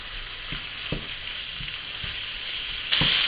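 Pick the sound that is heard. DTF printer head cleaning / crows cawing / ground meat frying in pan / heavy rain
ground meat frying in pan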